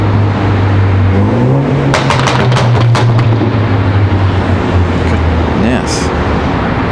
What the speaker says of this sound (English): Loud BMW.